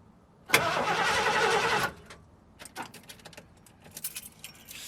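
A motorhome engine cranks with a loud, rapid churning for about a second and a half but does not catch, then stops, leaving scattered clicks and light metallic rattles.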